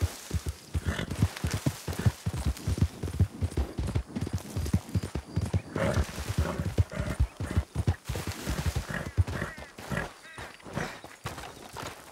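A horse trotting in a video game, its hooves clip-clopping in a steady, close rhythm for the whole stretch, with a brief snort or whinny in places and no talk.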